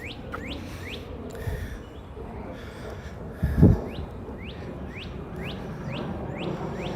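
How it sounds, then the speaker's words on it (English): Small birds chirp and trill repeatedly through a Brooklyn park, bright short calls recurring every second or so over a steady outdoor hum, with a brief louder thump or breath near the middle. "But you can hear the birds."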